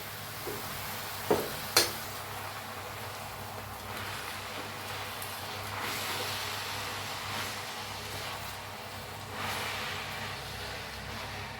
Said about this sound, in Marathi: भाजीला जरा खालीवर करून घेऊया।